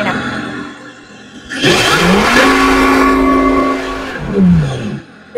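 Simulated engine sound played through the speaker of an electric racing go-kart: a loud synthetic rising whine that holds a steady buzzing tone for about two seconds, then falls away, heard close and alone amid background hum.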